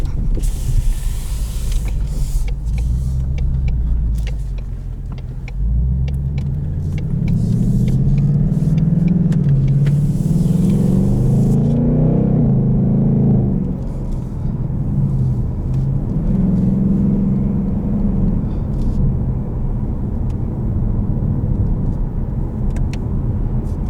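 A 2020 Ford Mustang GT Performance Package with an automatic transmission is driven over a rocky surface, its engine giving a steady low rumble that swells as it revs, heard from inside the car with road noise and no talking.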